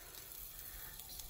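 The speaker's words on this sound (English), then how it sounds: "Hear that sizzle?" Pre-cooked spicy goat meat stew added to hot oil and vegetables in a pan on medium heat, a soft, steady sizzle and hiss heard alone.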